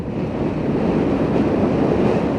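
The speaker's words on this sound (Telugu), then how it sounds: "ఈ ఏరియా మాత్రం ఫుల్ గాలి తగులుతుంది" Strong wind roars steadily on a road in Ladakh, buffeting the microphone with a dense, low rumble and no pauses, loud throughout.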